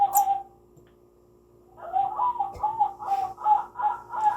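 A voice imitates a rooster crowing, repeating a rhythmic series of hooting, crow-like calls after a short pause, fairly close and clear.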